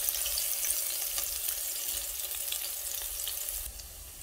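Onion fries lightly in a pan for a mixed vegetable dish, a steady close sizzle with a low rumbling undertone that eases slightly at the end, and no voices.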